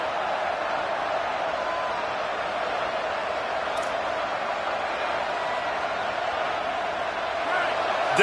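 Football stadium crowd rising on a 3rd down, a dense, steady roar of many voices that swells slightly louder toward the end.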